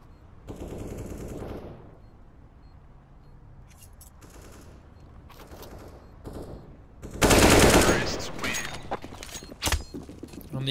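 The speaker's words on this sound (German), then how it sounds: "Aber auch hier sitzen die Shots durch die Smoke von Coldy." Rapid automatic gunfire in a competitive Counter-Strike match, bursts of shots fired through smoke with a loud volley near the middle, scattered clicks and footsteps around it, and no talk.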